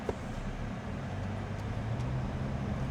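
A Mazda CX-5 driving on the road gives a steady low rumble of engine and tyre noise from inside the cabin, even and continuous, with no voices.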